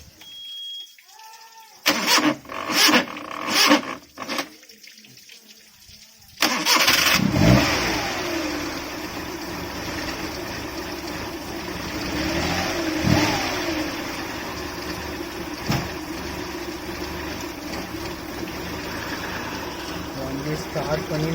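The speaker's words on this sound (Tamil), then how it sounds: "இப்போ வந்து வண்டியை ஸ்டார்ட் பண்ணி இன்ஜினில் உள்ள டஸ்ட்டு எதுவும் இருந்தாலும் ரிமூவ் பண்ணுற மாதிரி நம்ம எடுத்துக்கலாம்." A Maruti 800 car engine, run to clear dust from the engine during radiator and coolant work, gives a few short cranking and clattering bursts, then catches and settles into a loud running idle with occasional revs.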